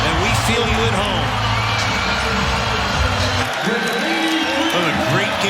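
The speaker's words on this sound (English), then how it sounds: "He will come out of the game and hear it from the crowd." A basketball arena crowd cheers and applauds continuously and loudly, a dense roar with whoops, while a commentator talks over it.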